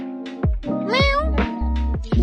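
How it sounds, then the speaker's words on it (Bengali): A cat in a pet shop gives a few clear meows, close and fairly loud, with short pauses between calls and no talking over them. "এটা বিড়াল, অনেক সুন্দর সুন্দর বিড়াল আছে এখানে।"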